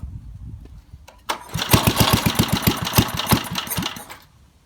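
A 1953 Toro Whirlwind lawn mower engine, revived after sitting for fifty years, sputters to life with a rapid run of loud, close popping firing beats that hold for a few seconds and then cut out.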